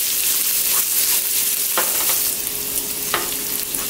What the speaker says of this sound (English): Just saute them for about 30 seconds until all became fragrant.